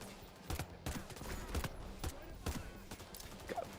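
SMG gunfire from the Payday 3 heist game, a string of sharp separate shots spaced roughly every half second, moderately quiet, with faint game background noise and occasional other sounds between bursts.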